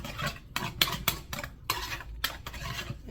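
Shrimp being stirred with sweet chili sauce in a bowl, a run of quick scraping, clinking strokes of utensil against the dish, close and steady, with no talk.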